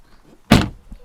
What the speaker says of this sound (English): If we take a seat inside and close the door,